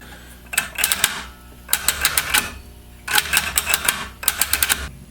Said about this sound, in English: The detent solenoid bolts are torqued to spec, as well as all the valve body bolts.